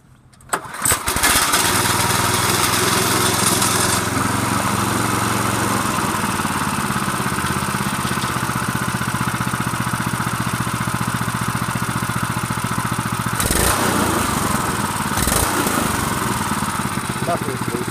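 A Sears lawn mower engine, low on fuel, pulls to life after a brief clatter and then runs steadily at a loud, constant drone, close by, with a couple of brief bumps.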